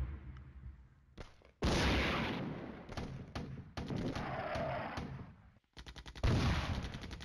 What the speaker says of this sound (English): Oh, looks like our artillery decided to get in the game.